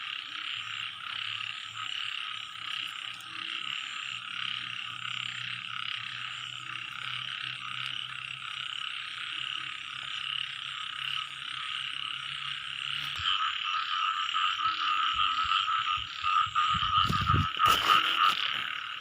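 Dense chorus of frogs croaking continuously through a rainy night outdoors, steady and close, with a sharper burst of noise near the end.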